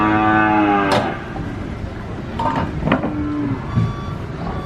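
Cattle moo loudly while being unloaded from a truck, one long harmonic call at the start followed by rustling and clatter of the animals and vehicle.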